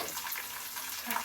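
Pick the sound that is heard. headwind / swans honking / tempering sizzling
tempering sizzling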